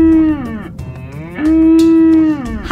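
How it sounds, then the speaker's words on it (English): Highland cattle moo in two long, loud, steady calls close by, the first short and the second drawn out, with nothing else heard around them. "Highland cattle."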